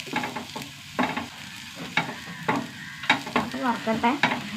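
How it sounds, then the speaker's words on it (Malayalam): Prawns fry in a hot pan, giving a close, continuous sizzle broken by rhythmic scraping stirs every second or so. "വറുത്തെടുക്കട്ടെ."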